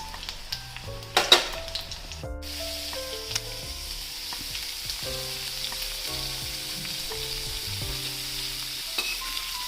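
Steady sizzling of beans frying in a pan, with a few clinks and stirring scrapes early on, under a low background hum.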